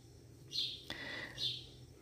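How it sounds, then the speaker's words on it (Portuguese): Small birds chirp outside on an overcast morning after heavy overnight rain, two short bright calls spaced about a second apart over a faint, quiet background with a soft click between them. "mas eu estou ouvindo lá, olha lá os passarinhos"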